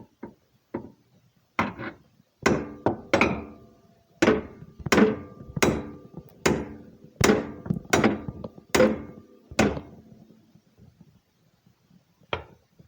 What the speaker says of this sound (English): We're going to have to use the hammer to pound it through.